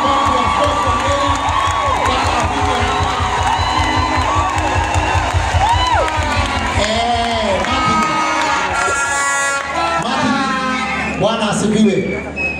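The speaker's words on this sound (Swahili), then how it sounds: "Makofi mazuri. Makofi ya askofu wa Nyeri." A church crowd claps and cheers to welcome the bishop of Nyeri at a memorial gathering, steady rhythmic applause with whoops and children's shouts, loud and close, while a voice talks over it.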